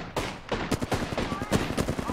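Wingman pistol fire in Apex Legends, a rapid series of sharp loud shots with battle noise, a voice speaking over them.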